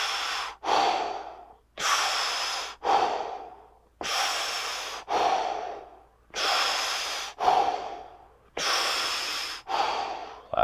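Slow, deep breathing during a yoga stretch, close to the microphone, with long airy inhales and exhales in an even rhythm, about five full breath cycles and no talking.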